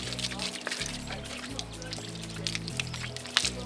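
A water hose sprays steadily over a horse during a wash, giving a continuous pouring, splashing hiss that runs through the whole stretch with no break.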